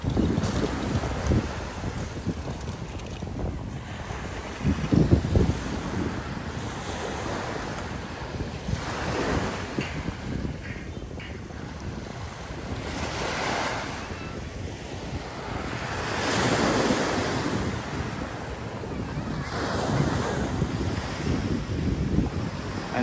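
Strong sea waves surge and wash continuously along the Manila Bay shore, with steady wind buffeting the microphone and swelling crashes recurring throughout.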